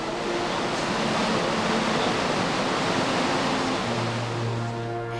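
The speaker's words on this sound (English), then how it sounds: "A favorite summer spot, the falls are nearly 30 meters higher than Niagara." Montmorency Falls, a tall waterfall in Quebec City, roars as a steady broadband rush of falling water, loud and unbroken, with a faint tonal hum near the end.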